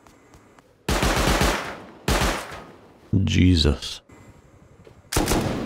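Automated turrets in the game Rust fire loud bursts of gunfire during an offline raid on a base, several sharp volleys separated by brief quiet gaps, with one person exclaiming partway through.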